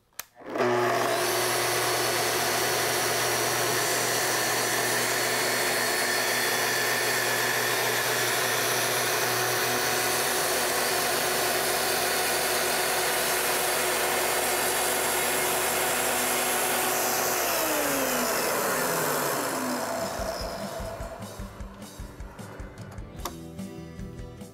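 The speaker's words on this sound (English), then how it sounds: "To make your cut, plunge in slowly all the way down and advance forward until you reach the end" A Festool TS 75 plunge saw runs loud and steady through a long plunge cut, the motor's whine sustained for about twenty seconds before it winds down and fades with ticking as the blade slows.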